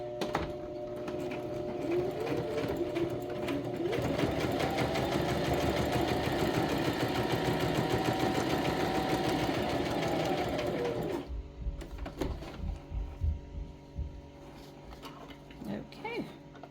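A sewing machine stitches a handmade bag, a loud, fast mechanical whir with rapid needle rhythm running steadily for about eleven seconds, then stopping, followed by quieter handling clicks and rustling.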